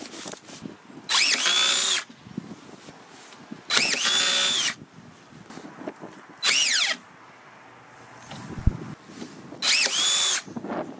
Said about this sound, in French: Permet de visser vraiment très très rapidement et là ça enfonce vraiment très légèrement